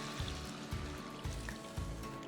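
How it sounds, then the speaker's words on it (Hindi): Water pours into a pan of Thai red curry vegetables with baby corn and carrots over high heat, a continuous close splashing trickle with soft rhythmic pulses, no speech. "तो ये जो पानी और कोकोनट मिल्क हमने डाला है"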